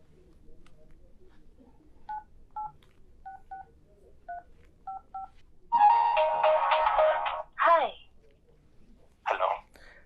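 Phone keypad tones beeping one by one as a number is dialed, short clear pairs of beeps in a quiet room, then louder bursts of other phone sounds.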